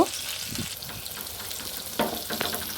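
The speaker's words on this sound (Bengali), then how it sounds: "খুবই হালকা ভাবে ফ্রাইটা করব একটু হালকাভাবে নেড়ে ঝেড়ে নিয়ে নেব" Pointed gourd (potol) being fried lightly in oil in a pan, a soft steady sizzle with occasional stirring scrapes and clinks, moderately close, with no talking.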